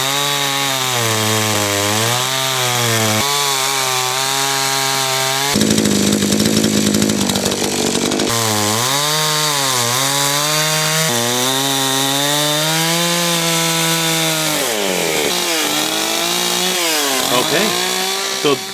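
Chainsaw carving wood for chainsaw art: a loud, close engine whine that rises and falls as the throttle changes, with a harsher rough burst midway as the chain bites into the wood.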